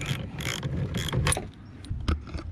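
Clamps on a truck bed cover being loosened by hand, a series of close ratcheting, gear-like clicks in short bursts with brief pauses between.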